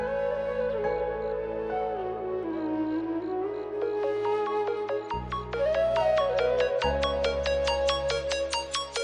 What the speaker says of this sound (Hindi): गुड़िया का फोन।